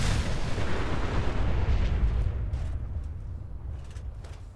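A heavy weapon fires in the video game Fallout 4, letting off a single loud, deep blast at the start. The boom rumbles and slowly fades over several seconds with no one talking.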